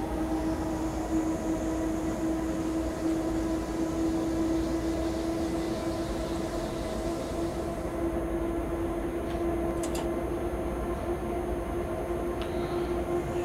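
A train in Train Simulator 2019 rolls along at 60 with a steady low rumble and a sustained droning tone, holding constant throughout with no voices.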